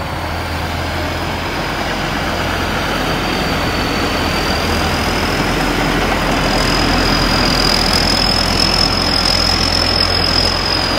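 A Sit Charoen 2017 combine harvester unloads rice into a dump truck, its engine droning loud and steady throughout with a constant broadband rush of grain and machinery and a faint high whine rising later.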